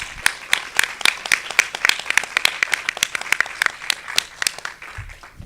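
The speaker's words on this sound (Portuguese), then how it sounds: "eu acho que eu pediria uma salva de palmas para todos eles" A small crowd claps steadily, close by, with sharp individual claps audible throughout before the applause thins out at the end.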